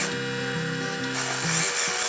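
Sewing machine top stitching along the bottom edge of a homemade fabric face mask, a steady motorized whir with a rhythmic mechanical chatter that rises and shifts in pitch as the stitching speeds up.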